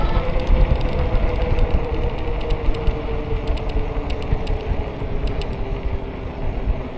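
A Windhorse WH2001 gas bike engine runs with a steady, buzzing mechanical drone while being throttled, holding a fairly even level close by with no talking.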